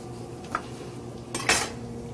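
Pots and pans handled on a stove while a seafood stew cooks in a fry pan, a faint tap followed by a sharper metallic clatter of cookware, close and brief.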